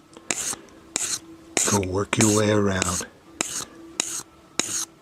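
A tool blade stroked across a sanding block in steady back-and-forth rasping passes, close and crisp, with someone talking between and over the strokes.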